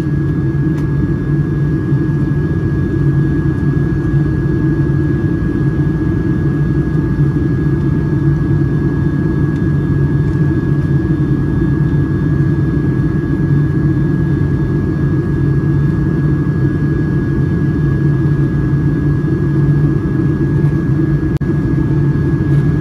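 Jet cabin of a Boeing 757-200 airliner during descent, a steady loud engine and air roar with strong low-frequency drone, unchanging and continuous throughout, with no talk.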